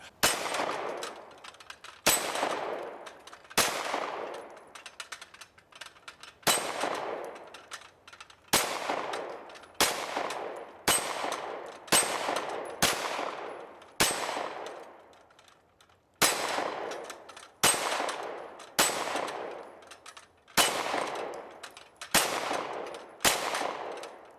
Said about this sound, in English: First, I'll be shooting 9mm hollow points to see how it reacts to that.